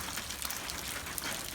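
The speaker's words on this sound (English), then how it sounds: "The rain is slacked a little bit right now, but we're being told it's going to be worse" Steady rain falling with water running off a barn roof into a flooded pond area, a soft continuous hiss and patter close by with no talking.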